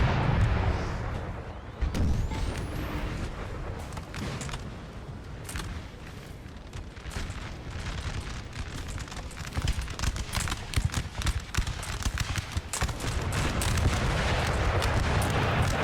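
Howitzer artillery fire in Napoleon Total War during a forest battle, heavy booms and crackling musket volleys in a dense, continuous battlefield din with no talking.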